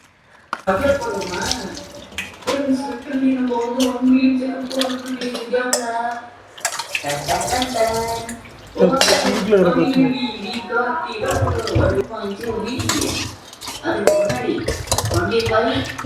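Crabs being washed in a pot of water in a home kitchen, with sloshing water and clattering metal pot sounds running steadily throughout, while people talk nearby over the washing.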